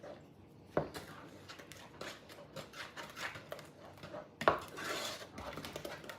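Jell-O stirred into thick strawberry pie filling in a pot off the heat, soft spoon scraping and rubbing against the pot with two sharp clinks, quiet and close.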